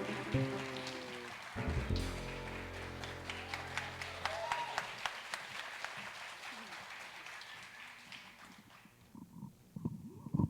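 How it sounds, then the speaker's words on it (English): Applause for jazz vocalist Jackson Chase at the close of a song, a burst of clapping that enters over the last held note and fades gradually, with a few scattered claps and a voice at the very end. "Another round of applause for Mr. Jackson Chase"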